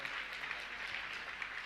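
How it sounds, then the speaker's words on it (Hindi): An audience at a Jain religious gathering applauds with a brief, dense patter of many hands clapping, steady and moderately loud throughout, with no distinct voices. "आपकी तालियां, जोरदार तालियां होना चाहिए संस्थापक सदस्य के रूप में।"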